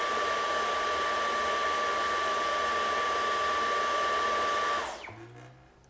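A vacuum cleaner runs with a loud, steady motorized whine and high tonal hum for several seconds, then switches off and winds down into quiet.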